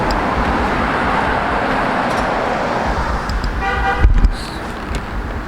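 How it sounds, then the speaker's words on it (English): Car horns toot amid steady roadway traffic noise, with a cluster of honks near the end rising over the loud background hum of passing vehicles. "Okay, we got some honks."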